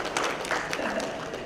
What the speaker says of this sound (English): Can we give them all a clap?